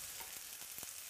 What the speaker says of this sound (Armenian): Հիմա սա կտապակվի